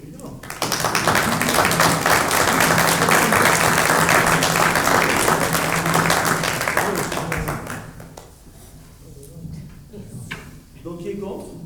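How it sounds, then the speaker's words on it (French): Council members applaud the civil servants during a municipal council meeting, with sustained dense clapping for about seven seconds that then fades out, leaving quieter room sound and talk. "Est-ce qu'on peut applaudir les fonctionnaires?"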